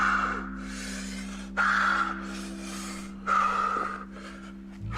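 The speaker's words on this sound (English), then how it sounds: "Do I have to hear the breathing though?" Heavy, rasping breaths from a climber in a played clip, several loud gasping inhales and exhales in uneven bursts, close and alone.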